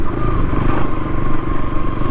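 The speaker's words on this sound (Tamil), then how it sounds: "ஐயோ செம்மையாக இருக்குது அந்த சவுண்ட் எக்ஸாஸ்ட் நோட்டு." A motorcycle's loud exhaust note, a dense rumbling drone that holds steady and close throughout with no voices.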